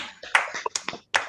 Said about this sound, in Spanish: Y un aplauso final para Lautaro